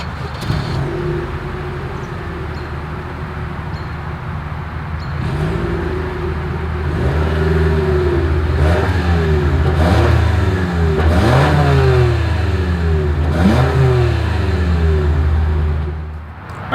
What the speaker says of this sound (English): you guys know what we have to do next. Is always here is that exhaust clip.